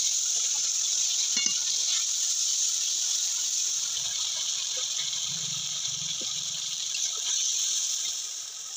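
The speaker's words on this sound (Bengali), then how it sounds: "তো বাটি ধোয়া জলও দিয়ে দিল মশলাটা কষানোর জন্য।" Bowl-rinsing water goes into ground spice paste frying in oil with bay leaves, a dried chili and cardamom, for a rohu fish curry with cauliflower. A steady, close sizzling hiss continues throughout, with a low gurgle of liquid partway through.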